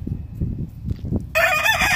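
Old brood rooster crowing close by, a bright sustained call starting at the end after soft low clucking and rustling.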